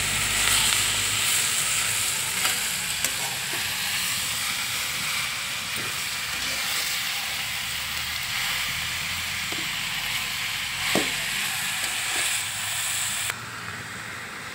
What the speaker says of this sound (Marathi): मस्त चुलीमध्ये खरपूस वांगी भाजली आहे बघा.